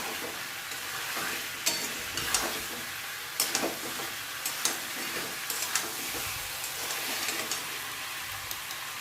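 Ground cumin, coriander and turmeric are sautéed in a pan with a steady, fairly quiet sizzle. A spatula scrapes and taps at irregular moments, and there is no talking.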